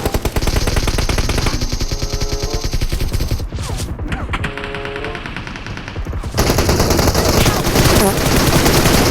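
PUBG Mobile gunfire during a 4v4 match on Livik: loud, rapid automatic bursts rattling almost without pause, a brief lull partway, then even heavier continuous firing.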